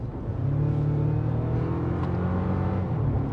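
A 2024 Toyota Tacoma hybrid with an 8-speed transmission accelerating, heard as a steady droning engine hum that holds and slowly rises, fairly loud and continuous, with no talking.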